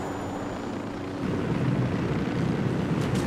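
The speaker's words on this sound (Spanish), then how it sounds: "Al suelo, helicóptero." In Ghost Recon Wildlands gameplay, a helicopter's rotor roar swells louder partway through, becoming a close, rumbling drone with a thick low-end thump, alone without speech.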